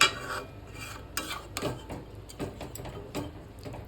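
Black pepper chicken with added water is stirred in a pan. Faint, irregular scraping and clinking strokes sound close by against a quiet background.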